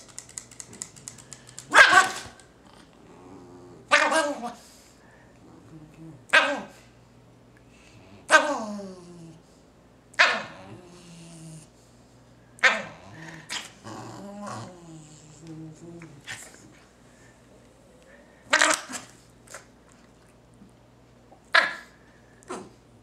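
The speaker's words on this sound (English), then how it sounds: "Guard dog." A guard dog barks in short, sharp bursts, about a dozen irregularly spaced barks mixed with low growls, close and loud against an otherwise quiet background.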